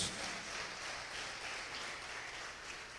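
A church congregation applauds, a faint, even wash of many hands clapping that holds steady throughout with no voices over it.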